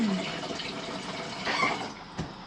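Water runs steadily into a cooking pot for amala, a continuous splashing fill with a few brief clanks and a faint voice in the background.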